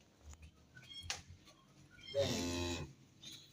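Holstein Friesian heifer calves on a farm, with one loud, drawn-out moo in the middle that stands out against quiet farmyard background noise and a few faint knocks.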